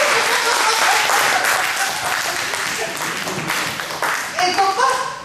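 Church congregation applauding during a sermon, dense steady clapping at close range that holds throughout and thins slightly toward the end, with a few voices calling out over it.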